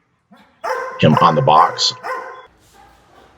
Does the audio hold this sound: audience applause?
no